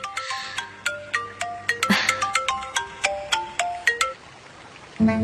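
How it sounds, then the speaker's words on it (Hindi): A melodic phone ringtone plays a repeating run of bright, plucked tones in a steady rhythm, then stops abruptly. "ये फोन क्यों बजता रहता है हमेशा?"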